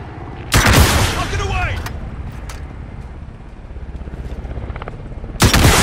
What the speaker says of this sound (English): Why are you shooting me for?